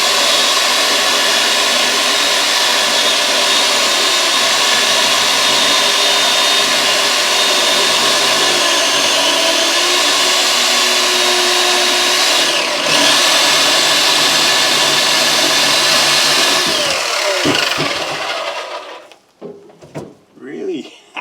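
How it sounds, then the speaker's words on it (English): A chainsaw runs continuously with a loud, steady, buzzing motor drone for most of the clip. Near the end it cuts out and gives way to a few scattered quieter sounds. "Really, that chainsaw, I love that."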